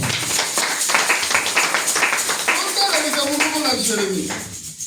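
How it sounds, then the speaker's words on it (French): Congregation in a French-speaking church service clapping loudly and steadily for about five seconds, dense rhythmic hand claps filling the room, with voices and a sung or spoken line rising over the end. "Acclamons très très fort"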